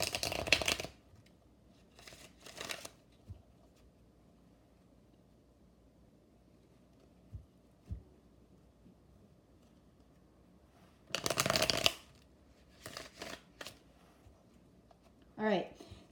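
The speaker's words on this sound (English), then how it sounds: "And I'm using a third deck." A tarot card deck being shuffled in a few separate bursts of quick riffling and flicking, close and crisp, separated by near silence and soft handling noises.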